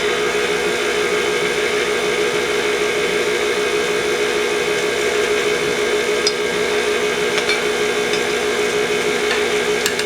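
An electric mixer beats cake batter with sour cream and flour in a home kitchen, a loud steady whirring motor drone that holds constant throughout, with a couple of faint clicks near the end.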